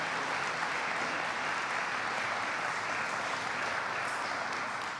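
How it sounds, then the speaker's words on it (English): Steady crowd applause at a Veterans Day celebration in Gloucester County, a dense, even wash of many hands clapping that holds throughout and fades slightly at the end. "So let's give a big round of applause to our friends in Washington, as well as the VFWs who really pushed that forward."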